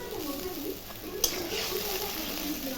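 Chili, ginger and tomato masala paste fries in a pan for biryani, a steady close sizzle with soft stirring and a single sharp clink of a utensil midway.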